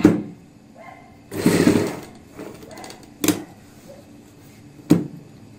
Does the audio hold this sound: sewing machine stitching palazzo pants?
yes